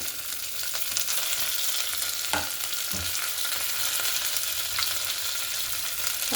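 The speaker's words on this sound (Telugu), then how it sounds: "ఇప్పుడు వెజిటబుల్స్ అన్నీ వేసేసుకుందాం. క్యారెట్, క్యాప్సికమ్, టమాటా," Carrot, capsicum and tomato pieces for moong dal khichdi fry in a pan with a loud, continuous sizzle, as a spoon scrapes and taps the pan a few times.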